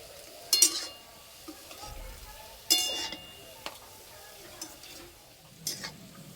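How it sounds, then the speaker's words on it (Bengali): Palm fruit fritters frying in oil make a low, steady sizzle broken by several clinks and scrapes of a utensil against the pan, all close by. "আর এই যে বড়াগুলো ভাজা হচ্ছে,"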